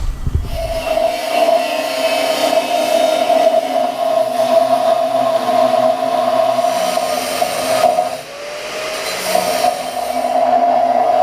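A grinder cleans leftover welded tab remnants off steel cross pieces during an engine-swap build. It gives a loud, steady, high motor whine that runs almost without a break, dips briefly near the end, then picks up again. No talking.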